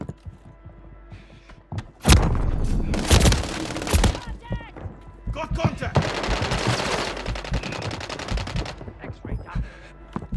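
Gunfire in the video game Call of Duty Warzone 2: bursts of rapid automatic fire and single sharp shots, loud and close, broken by short pauses, with game radio voices talking in between.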